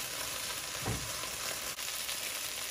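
Spices with a little red pepper fry in hot oil in a pan, a steady close sizzle running throughout with a brief stir-like swell partway and no talk.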